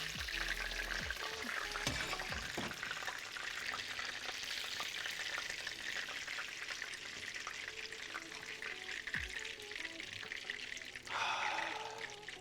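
Schnitzel frying in a pan, a steady broadband sizzle running throughout with occasional low clatters of handling, and a brief louder hiss near the end.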